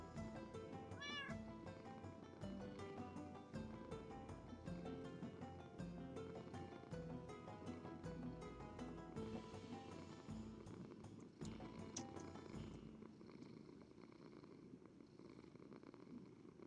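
A cat purrs loudly and steadily right up close while it naps against a person's face, with a brief meow early on and the purring holding on throughout.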